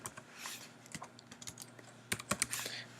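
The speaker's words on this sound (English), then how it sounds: "Not being very successful in typing today." Computer keyboard keys clicking in short irregular bursts, close and fairly quiet, with a denser flurry of taps near the end and no voices.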